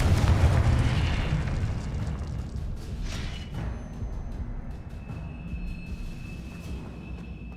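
A single heavy Confringo spell blast from Hogwarts Legacy erupts loudly at the start, then its deep rumble slowly fades into a low, crackling tail with faint hissing magical effects.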